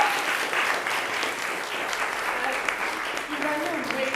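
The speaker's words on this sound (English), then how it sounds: "Can we have another round of applause for this wonderful talk performance by Clio?" An audience applauds after a talk on game-inspired music aesthetics at a games event, dense, steady clapping filling the room for the whole stretch, with a voice speaking faintly underneath near the end.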